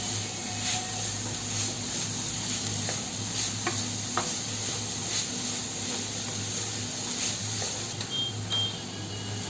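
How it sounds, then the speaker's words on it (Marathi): Jaggery filling for ukadiche modak stirred in a pan over a low flame, a steady soft sizzle and hiss with faint scraping strokes and occasional light clicks, no talking. "आपण ना सतत ढवळत राहायचं आहे स्लो गॅसवरती, आपलं गूळ वितळेपर्यंत"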